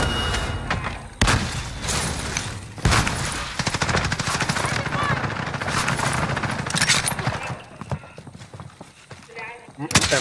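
Rapid bursts of gunfire in a multiplayer shooter match, dense and loud throughout, with sharp cracks and sustained firing mixed under excited team voice chat as several players talk over the action.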